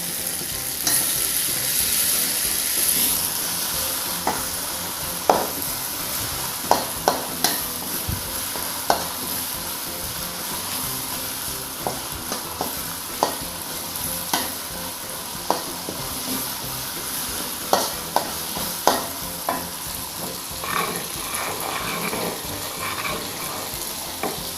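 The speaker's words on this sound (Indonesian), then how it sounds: "goreng ya. Agak kering sedikit bumbunya biar wanginya" Spices fry and sizzle steadily in a pan with lemongrass, bay leaves and lime leaves for a grilled tilapia pecak, with repeated scraping stir strokes of a spatula throughout.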